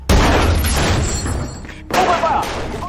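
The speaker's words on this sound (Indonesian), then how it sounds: "Operasi berjalan dengan sengit dengan tembakan berderu, peluru berterbangan" Loud booming blasts of film gunfire and impacts during a raid in The Prosecutor (2024), one heavy burst followed by another after a brief lull, with a voice talking over them.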